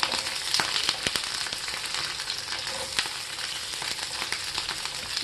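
Onion petals from a large onion, cut into thick chunks, sizzle loudly in a hot pan over high flame for a Soya Manchurian, a steady dense hiss with scattered sharp crackles throughout and no talking.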